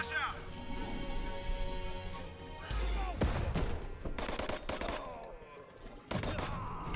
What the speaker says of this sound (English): I'm going to clear into there after the flashbang goes out